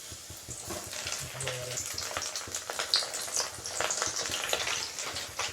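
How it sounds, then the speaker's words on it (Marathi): Semolina-coated fish pieces fry in hot oil, a close steady sizzle with bursts of bubbling crackle and occasional spatter, moderately loud, no voices over it. "याची एक बाजू छान खरपूस होईपर्यंत तळून घेऊया"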